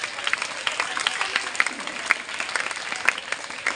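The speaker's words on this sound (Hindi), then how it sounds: "एक बार जोर से तालियां हो जाए।" Applause from a school crowd at an Independence Day celebration in the courtyard of a senior secondary school, a dense, steady patter of many hands with a few sharper claps standing out, lasting throughout.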